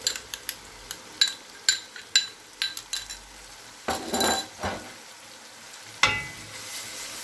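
Ginger paste being stirred into tomatoes frying in a pan, with a soft sizzle under a string of light spoon scrapes and clinks against the metal, plus a few louder stirring bursts.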